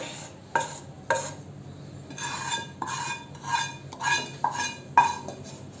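Repeated scraping and clinking of a utensil against a bowl as a ragi ball mixture is stirred, with a few sharper knocks, close and fairly quiet.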